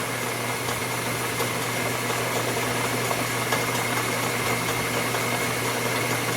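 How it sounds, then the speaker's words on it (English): A Mity 7 lathe running on a DC drive, a steady even motor hum with a faint whine, continuous and unchanging, with no voices. "we're using the DC drive instead of the quick change gearbox"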